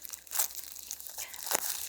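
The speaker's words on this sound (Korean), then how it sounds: "자, 이제 비닐을 한번 벗겨보도록 할게요" Plastic wrap is peeled and crinkled off a children's dinosaur fossil excavation kit, a series of soft crackling rustles with a sharper tearing burst near the end, close and fairly quiet, no speech.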